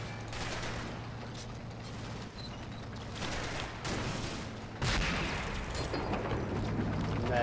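Gunfire in the tank combat game Combat Mission Battle for Normandy, with a Panther tank under fire: a dense, continuous rumble of distant shots and battle noise, with a heavier burst near the five-second mark.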